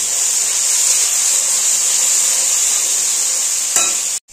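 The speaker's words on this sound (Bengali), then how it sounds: "এবার এটাকে কষাবো" Spiced masala of chili powder and salt sautéing in oil for a spicy fish curry, giving a loud, continuous hiss that ends with a brief clatter.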